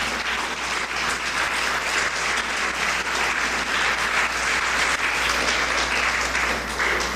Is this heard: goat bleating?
no